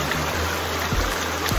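Hot water pours steadily from a bath fountain, a close, even rushing splash with a few soft low knocks underneath.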